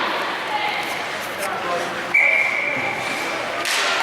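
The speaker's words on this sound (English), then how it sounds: "we thought the whistle might have been prematurely blown there" A referee's whistle at a recreational ice hockey league game gives one sustained shrill blast of about a second and a half. It sits over steady rink and crowd noise.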